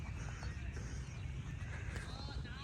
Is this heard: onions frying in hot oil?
no